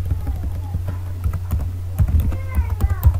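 Computer keyboard typing, a steady run of close, crisp key clicks with a few heavier strikes near the end, over a low steady hum and no talking.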